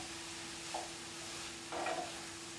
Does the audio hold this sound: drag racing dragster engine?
no